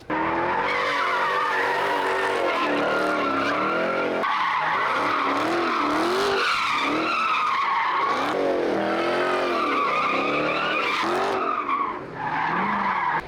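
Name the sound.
cars skidding and crashing at a car meet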